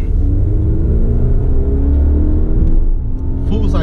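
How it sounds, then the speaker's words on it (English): A 2019 Volvo XC90 T5 full-size SUV accelerating, its engine giving a steady, loud low rumble and rising drone from inside the cabin, with no speech over it. "this engine pulls strong in this car"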